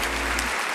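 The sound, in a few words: audience applause for speaker Victor Bourgeon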